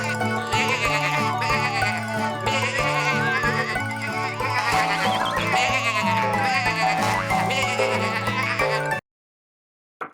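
Cartoon sheep bleat on a farm over a steady bed of bright music, the bleats mixed into the score for about nine seconds before it cuts to silence.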